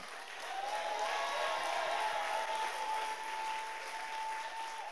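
A worship congregation claps hands together in a dense, sustained wash of applause, steady and fairly distant, with a faint tonal hum running underneath and no clear speech.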